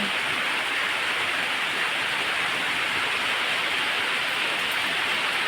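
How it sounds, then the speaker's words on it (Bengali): Heavy rain pours down outdoors on a morning, a dense, even broadband roar of falling water that holds constant and fairly faint in level throughout, with no voices. "দেখো কেমন প্রচণ্ড বৃষ্টি পড়ছে"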